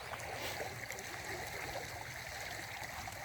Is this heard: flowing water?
yes